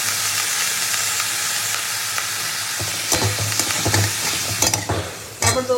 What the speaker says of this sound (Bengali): এবার আমি দিয়ে দেবো সেদ্ধ করে রাখা ডুমুরটা